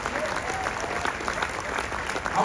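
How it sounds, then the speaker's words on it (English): An audience claps at a speech, a dense, even wash of applause that holds steady for a couple of seconds, moderately loud and fairly close. "Y'all supposed to be clapping now."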